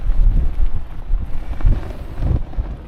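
Strong gusts on a Lake District summit buffet the microphone in heavy low rumbling bursts, rising and falling in uneven surges close up.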